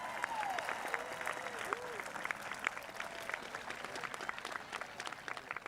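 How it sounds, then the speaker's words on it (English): Outdoor audience applause during a graduation ceremony, continuous scattered clapping at moderate distance, fairly faint and steady throughout. "can I just have a round of applause for no rain and a great evening?"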